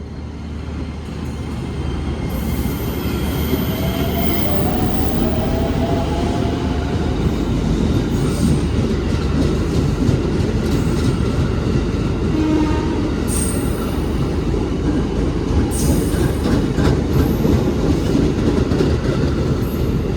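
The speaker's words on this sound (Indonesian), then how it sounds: "ini KRL yang persiapan berangkat dengan tujuan akhir stasiun Palur" A KRL commuter train pulls out of a station on its way to Palur. It rumbles steadily and loudly nearby, with a rising motor whine, high wheel squeals and bursts of clicking over the rails.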